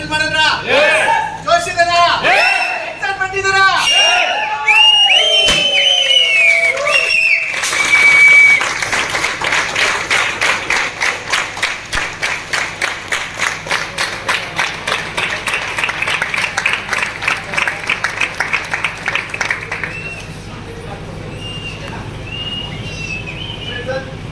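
A crowd breaks into applause, many hands clapping in a fast, dense patter that builds and holds for long stretches, loud and close, with a voice heard at the start.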